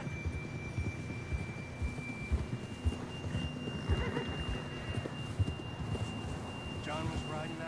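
Horse neighing and hoof clip-clops in Red Dead Redemption 2, soft and steady under wind and a low hum, with people talking throughout.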